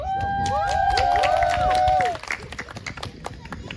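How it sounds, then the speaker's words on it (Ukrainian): Audience applause and cheering at the opening of a Ukrainian literary workshop event, with loud wavering whistle-like tones over the crowd for two seconds before the clapping thins into scattered claps and murmuring. "Оплески вам"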